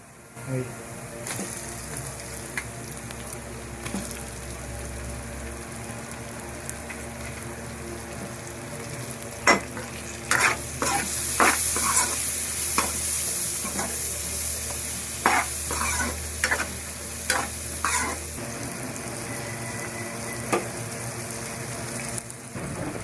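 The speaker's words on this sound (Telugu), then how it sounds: "అల్లం చిల్లిపాయ పేస్ట్ వేసుకొని బాగా ఫ్రై చేసుకోవాలి ఆ తర్వాత మనం తరిగి పక్కన పెట్టుకున్న క్యాప్సికన్ అయితే వేసుకోవాలి బాగా కలిపి" Chopped capsicum fries with ginger-chili paste in a pan for an egg curry, a steady sizzle running throughout, broken in the middle by bursts of spoon scraping and stirring.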